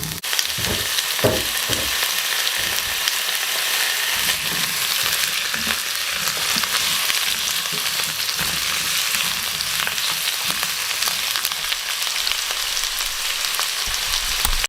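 Chicken and potato fry in a pan with a loud, dense, continuous sizzle. A few stirring knocks come early, and the crackle stays close and steady to the end.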